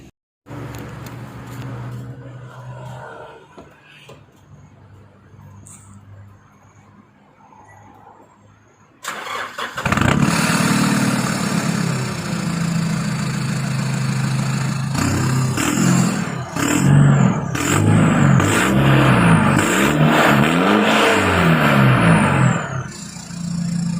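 Quiet idling at first, then a Nissan Navara NP300 (D23) pickup engine with a replacement aftermarket exhaust starts and runs with a deep exhaust rumble, revving up and down repeatedly close by.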